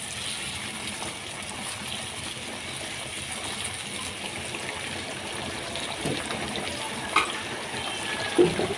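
Water pours steadily into a pan of chicken curry in a kadai, a soft continuous stream with a couple of faint clinks near the end, no talking over it.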